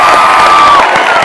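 Loud crowd of boys and girls at a Telugu television game show cheering and shouting over clapping, a dense, bright roar filling the whole moment with a sustained whistle-like tone.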